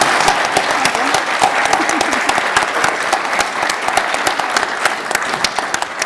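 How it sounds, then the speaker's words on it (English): Attendees at the Co-op Congress 2024 session applaud the panel, a sustained crowd of clapping with distinct individual claps standing out sharply in a steady, moderately loud rhythm. "Should we give everybody a round of applause for their contributions?"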